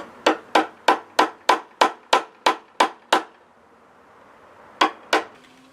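A flat chisel struck repeatedly to hollow out a wooden pipe: ten sharp, evenly spaced knocks in a quick rhythm, a pause, then two more close strikes, crisp and near.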